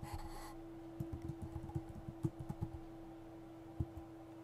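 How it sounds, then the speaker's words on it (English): A password typed on a computer keyboard, a quick run of soft, close key clicks in an irregular rhythm, then a pause and one last keystroke, over a steady low hum. "And then type it in again."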